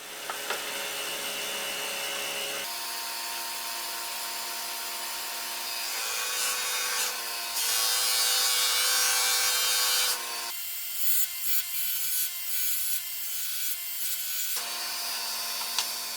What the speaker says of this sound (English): I could then polish them on the bench grinder